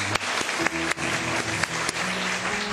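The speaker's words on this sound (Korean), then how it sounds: "큰 박수로 영광을 드리도록 하겠습니다." Dense, steady applause from a large church congregation, loud and continuous throughout, with a few sharper claps standing out.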